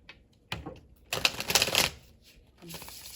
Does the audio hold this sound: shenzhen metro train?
no